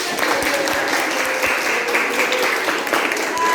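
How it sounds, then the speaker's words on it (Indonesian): Students in a classroom clap together, a dense, fairly loud burst of applause that continues steadily, with some voices mixed in. "Terima kasih tepuk tangan."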